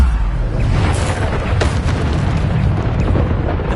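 A Bombarda spell explosion in the video game Hogwarts Legacy, a loud, continuous booming rumble heavy in low end, with crackling bursts layered through it and no voices.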